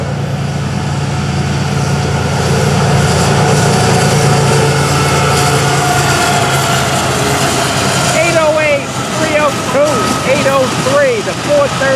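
A Florida East Coast freight train led by five locomotives rumbles past with a loud, steady low engine drone. Wheel squeals and whining tones rise over the roar late in the passage, and voices talk underneath.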